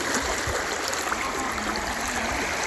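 Fast floodwater surges through a village area, making a dense, continuous rushing roar that holds steady throughout with no voices over it.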